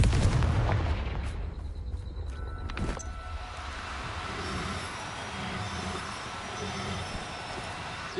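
A Confringo blasting spell explodes in Hogwarts Legacy on PS5, with heavy booming bursts at the start and again near three seconds, then settling into a low rumbling game ambience.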